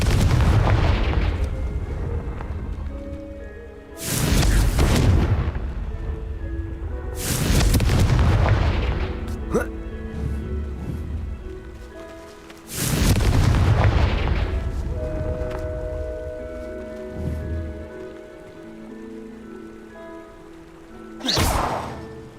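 Confringo blasting spells exploding in the Hogwarts Legacy video game: several loud, booming blasts about every three to five seconds, each followed by a rumbling, crackling tail, ending with one sharp final burst.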